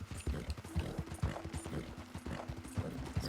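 Horse hooves clip-clop in a steady trotting rhythm while riding in Red Dead Redemption 2, moderately loud and close, with a faint tonal hum running beneath.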